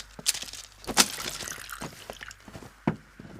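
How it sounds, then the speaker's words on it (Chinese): Water poured out in an ancient Chinese palace drama scene: a few short splashy bursts and clinks, close by, with quiet gaps between them. "倒水"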